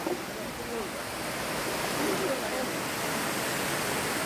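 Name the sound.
strong water current at Dhuppani waterfall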